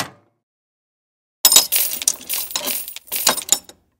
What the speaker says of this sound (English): Why do I hear coins?